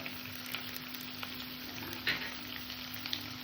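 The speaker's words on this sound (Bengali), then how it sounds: "আদা বাটাটা দিলাম আবার একটু হালকা করে কষে নেব" Ginger paste frying in oil in a pan gives a steady, close hiss of sizzling, with occasional light scrapes and taps of a spoon stirring it.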